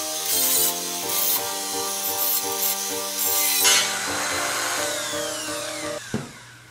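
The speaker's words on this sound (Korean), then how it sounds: "잠깐 깎는 모습 제가 잠깐 보여드릴게요." A ruler used for garment making is shaped by hand, with continuous close rubbing and rasping strokes on the material, steady and loud throughout, with no talk.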